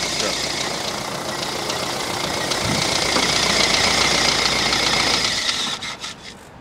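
A car engine idles steadily with a rough, knocking rumble, then cuts out near the end, leaving a few clicks and quieter sounds, at a repair shop readying military vehicles in Ukraine.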